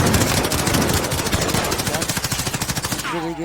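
Rapid gunfire from the Renetti pistol in the video game Modern Warfare, a dense run of sharp close shots fired in quick bursts, ending in a brief pause with a voice at the close.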